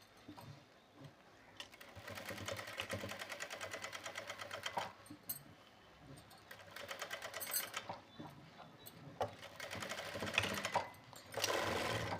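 A sewing machine stitches leftover fabric at close range, running in steady whirring bursts with brief pauses and restarts between them.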